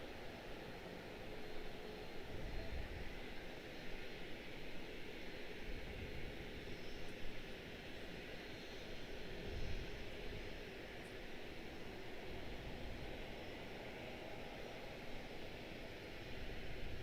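A heavy Delta jet on approach to Washington Dulles International Airport makes a steady, broad engine roar that fills the air continuously at moderate distance, with no voices.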